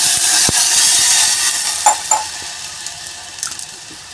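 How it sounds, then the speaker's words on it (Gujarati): A glass of water is poured into a khichdi pot of ridge gourd and red rice, a loud rushing splash that fades after a couple of seconds into a few soft clinks and drips. "આપણે 1 ગ્લાસ પાણી નાખીશું."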